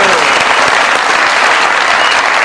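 Loud, dense studio audience applause on a comedy show, a steady wash of many hands clapping at close range throughout, with no voices over it.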